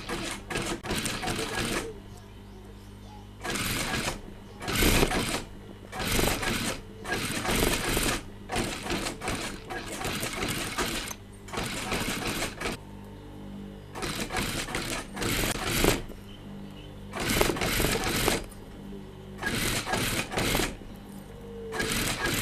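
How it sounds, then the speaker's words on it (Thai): A sewing machine stitching the shoulder and side seams of a shirt, its fast mechanical whirr running in repeated bursts with short pauses between them, close and loud, while someone talks at times. "เดี๋ยวเราจะไปเข้าตะเข็บไหลแล้วก็ข้าง"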